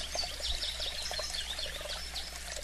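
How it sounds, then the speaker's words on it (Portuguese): A small forest stream trickles and pours steadily, a soft continuous babble with birds chirping faintly in the background. "Sinta-se numa floresta bonita, com um córrego ao seu lado, um rio pequeno de águas claras e bonitas."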